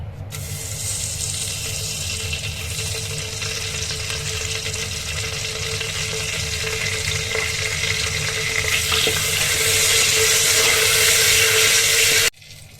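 Bay leaves and whole spices sizzle steadily in hot oil while chicken biryani is being cooked, a loud, continuous frying hiss that holds without a break and then stops abruptly at the end.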